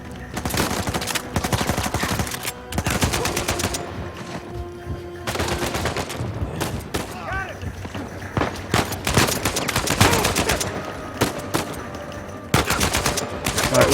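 Bursts of rapid automatic gunfire and single shots in the video game Uncharted 4, loud and close, repeating in clusters for over ten seconds with short gaps between volleys.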